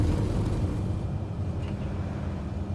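Cessna 208 engine in Microsoft Flight Simulator during takeoff, a steady low droning rumble holding at constant loudness throughout, with no voices over it.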